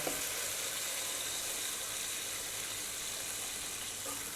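Water poured into a hot pan of sweating beetroot for soup sets off a steady, broad sizzle and hiss that continues evenly throughout at moderate loudness, with no voices.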